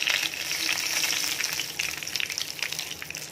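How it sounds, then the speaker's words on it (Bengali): Cumin seeds, dried red chillies and whole garam masala spluttering in hot mustard oil, a loud dense crackling sizzle that runs continuously, close up and with no voices. "সর্ষের তেলটা গরম হয়ে গেছে বন্ধুরা, জিরে ফোড়ন দিয়ে দিয়েছি, শুকনো লঙ্কা"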